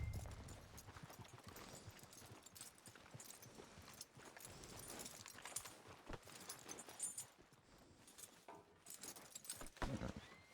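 A horse in the video game Red Dead Redemption 2 gives a few snorts and a whinny over steady hoof clip-clops and a quiet outdoor background, with no talking.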